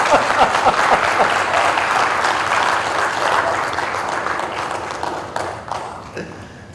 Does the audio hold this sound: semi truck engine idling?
no